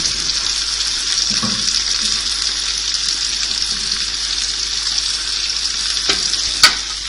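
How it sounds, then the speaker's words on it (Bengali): Quail roast fries in a pan while being stirred, giving a steady bright hiss of sizzling oil that runs continuously, with a couple of soft utensil knocks and one sharp click near the end. "এখন আমি ভালোভাবে নেড়ে নেব"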